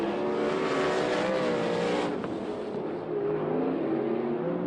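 A sprint car engine roars loud and steady as it races on a dirt track during a heat race, holding a high, harmonic drone that rises and falls slightly through a turn, with no talk over it.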